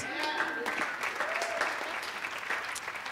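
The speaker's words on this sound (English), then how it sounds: "You guys can clap for me leaving his ass." Comedy club audience applauding a stand-up comic, a dense steady wash of clapping from a crowd sustained without a break, with a faint voice over it.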